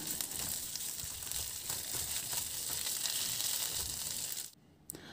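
Potatoes fry in hot oil in a pan with a steady, dense sizzle and faint crackle, close and continuous before cutting off abruptly near the end, followed by a brief clink.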